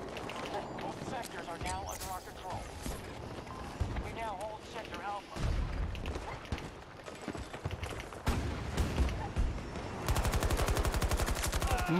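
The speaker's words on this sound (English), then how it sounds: "Someone's shooting at me." Gunfire rattles through Battlefield gameplay on Arica Harbour, with a PP29 among the weapons: repeated sharp shots and rapid automatic bursts, near and loud, grow denser toward the end, while someone talks over them.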